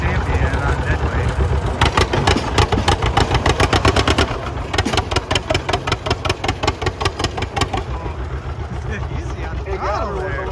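A deadweight pulling tractor on oversized pulling tires roars under load, its engine hammering in a fast, heavy pulse that rises and then loosens as the throttle eases, with steady clatter throughout at close range.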